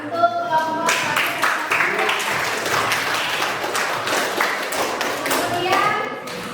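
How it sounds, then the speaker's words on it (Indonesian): Classroom of junior high school students clapping for a presenting group, a dense burst of hand claps close by, with children's voices chattering over and around it. "Tepuk tangan untuk kelompok 1."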